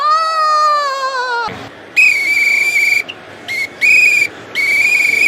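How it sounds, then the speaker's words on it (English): A whistle is blown loudly and close, first in one long warbling blast that slides downward, then in a series of short sharp toots with brief gaps, over faint background crowd noise. "Gotta blow that whistle."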